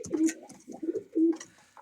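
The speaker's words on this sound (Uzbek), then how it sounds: "Mana kaptarlar yeb," Pigeons coo softly in a few low, throaty, rolling phrases, close by and quiet, with brief pauses between calls.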